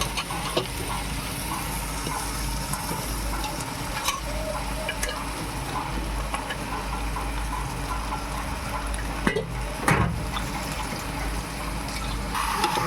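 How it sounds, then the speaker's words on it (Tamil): One kilogram of cleaned chicken is tipped into a pot of tomato masala for seeraga samba chicken biryani and stirred, with a continuous close sizzle, scraping stirs and a couple of sharp clanks, and no talking. "இப்போ நான் சுத்தம் செஞ்சு வச்சு இந்த 1 கிலோ கறியை நான் அதில் போட்டுறேன்"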